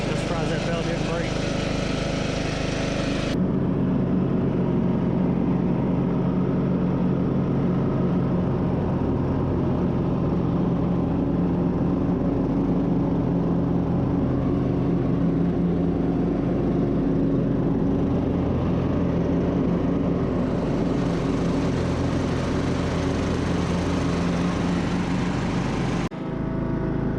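A John Deere L100 riding mower engine running steadily, a close, loud mid-pitched drone that holds for most of the stretch with shifts in tone near the start and end.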